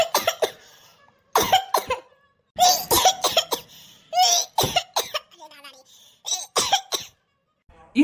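Repeated bursts of harsh coughing close to the mic, with laughter-like gasps and short vocal sounds between them.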